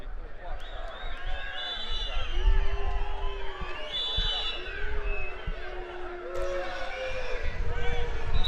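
Football crowd at a SOCCA EuroCup small-sided match involving Bulgaria and Moldova, with sustained booing and shrill whistles rising over a steady roar of chatter, loud and close throughout.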